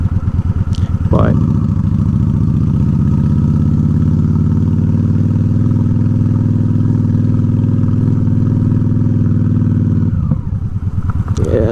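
A straight-piped Honda Shadow ACE 750 rumbles loud and close in a steady low throb while riding, with a few brief sharp pops from the exhaust near the start and end.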